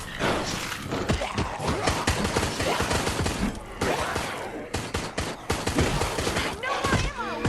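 Rapid bursts of gunfire in the video game Resident Evil Resistance, with dense, repeated shots and thuds crowding one after another at close range and only brief gaps.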